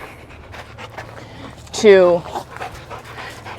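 A dog pants rapidly and audibly during a beginner game of tug with a toy, with a brief vocal whine in the middle, close up and heard under a person talking.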